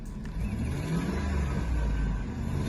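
A Dodge Dakota 4.7-litre V8 engine turns over and settles into a steady low rumble, fairly loud and close, with an exhaust manifold leak and no talking.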